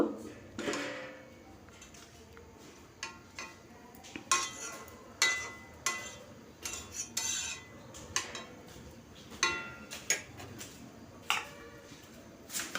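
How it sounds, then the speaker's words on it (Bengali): A utensil stirs egg and bean curry in a pan, giving soft scraping passes and sharp clinks against the metal at an irregular rhythm, close and fairly quiet. "আবারও আমি নেড়ে নিচ্ছি নেড়ে আবারও মিশিয়ে নিচ্ছি"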